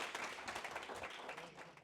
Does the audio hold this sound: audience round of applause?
yes